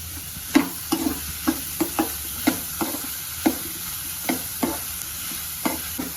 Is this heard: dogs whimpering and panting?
no